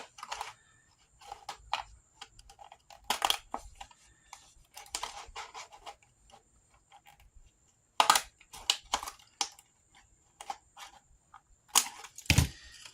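Scissors snip through a paper journal card in a run of quiet, crisp cuts, several short clicks spaced irregularly, close up and alone without talk.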